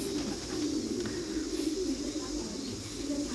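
Squab pigeons, young birds of around half a kilo raised on a farm, coo softly and steadily against a constant background hum, with no pauses in the sound.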